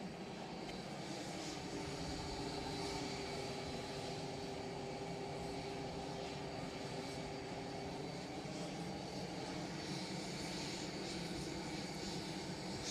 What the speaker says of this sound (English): the Jet 2 that you can hear idling in the background